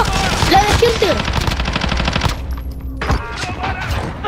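Rapid automatic gunfire in the Call of Duty Resurgence video game, a loud, close burst of fast repeating shots that stops sharply partway through, with a brief faint tone afterward.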